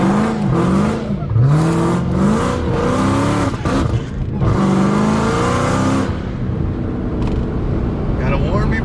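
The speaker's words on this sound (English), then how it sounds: "Rev limiter, rev limiter." A 900+ wheel-horsepower Dodge Hellcat heard from inside the car, its engine revving hard and loud in rising and falling sweeps against the rev limiter, with people talking over the roar.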